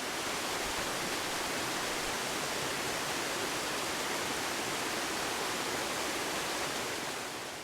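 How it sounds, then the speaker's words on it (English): A steady, dense roar of water pours down an Oregon waterfall, loud and close, holding unchanged for several seconds with no voices. "but really the waterfalls are it."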